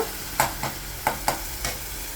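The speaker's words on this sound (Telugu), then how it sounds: "కొంచెం గార్లిక్ అది పచ్చివాసన పోయే వరకు వేయించాలండి" Garlic fries in oil for a brinjal and broad bean curry, a steady soft sizzle broken by five or six sharp scraping strokes of a spoon or spatula stirring the pan, close and fairly loud.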